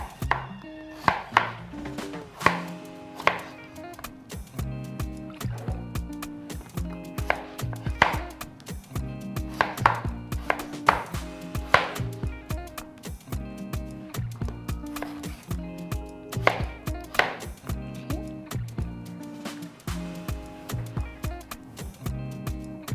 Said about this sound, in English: same thing for the yam. Cut it into smaller bits